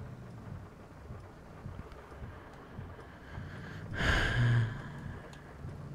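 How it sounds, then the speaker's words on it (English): Rain and thunder in the farming game Farming Simulator 22: a soft rain hiss runs throughout, and a single rumbling thunder crack bursts in about two-thirds through, then fades back into the rain. "It's a rainy day."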